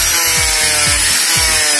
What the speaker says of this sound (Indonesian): Proses pengkilatan kipas menggunakan amplas